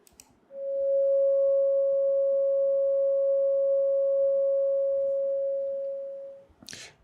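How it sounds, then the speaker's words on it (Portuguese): A steady pure sine tone holds at one pitch for about six seconds, smooth and unwavering, then cuts off, with a brief noisy burst at the end. "Vamos escutar primeiro a onda senoidal"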